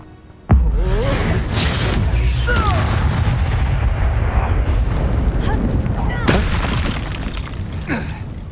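A Confringo blasting spell explodes in Hogwarts Legacy, beginning with a sudden heavy boom followed by a sustained roaring rumble of blasts and debris, with a second strong burst near the end, loud and close.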